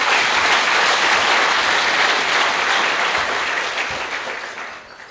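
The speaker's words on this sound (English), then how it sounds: "A big round of applause for all the proud parents." Sustained audience applause for proud parents at a new MBBS batch welcome ceremony at Government Medical College Srinagar, a dense wash of many hands clapping that holds steady and then fades out toward the end.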